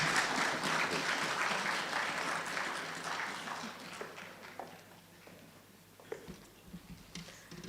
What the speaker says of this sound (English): please clap me out of stage.